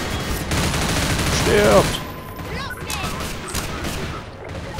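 Gunfire in the video game Half-Life 2: a dense stretch of rapid shots and impacts fills the first two seconds, then lighter scattered firing follows while someone speaks excitedly over it.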